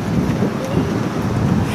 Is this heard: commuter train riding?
no